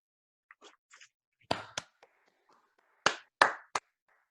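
A few scattered, sharp claps ring out in short bursts with gaps between them, like a handful of people clapping sparsely in a quiet room.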